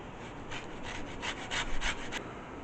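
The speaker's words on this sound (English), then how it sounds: "we're going to zest it." A zester scrapes across citrus peel for a Greek chicken pita, a few quick rasping strokes close up and soft, repeated in a short rhythmic run.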